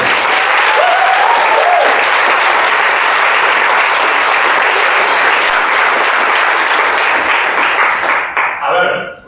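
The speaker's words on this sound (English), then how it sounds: "just give it a round of applause for everybody" A large crowd gives loud, dense, sustained applause at a Strathclyde University Student Union awards ceremony, with voices mixed into the clapping, before it tails off abruptly near the end.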